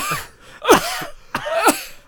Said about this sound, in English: It sounded like the most fake cough ever